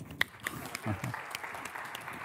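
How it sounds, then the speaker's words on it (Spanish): An audience at a Google Cloud generative AI talk claps in a brief burst of applause, moderately distant, with scattered hand claps fading out. "Un aplauso."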